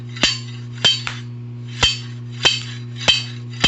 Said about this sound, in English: So I welded on my slide hammer, and I'm gonna take off this one bushing here.